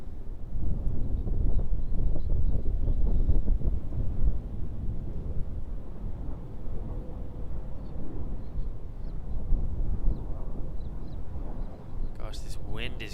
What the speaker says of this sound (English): This wind is crazy. It's really blowing a gust at the moment. It's blowing directly onto me.